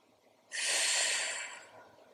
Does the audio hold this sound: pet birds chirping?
no